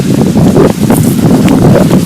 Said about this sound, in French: un vent de 40 km/h.